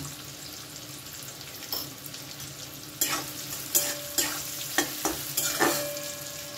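Carrots fry in a pan over a medium gas flame with a little salt while being made into fried rice, a steady low sizzle punctuated by several sharp spatula scrapes and stirs in the second half.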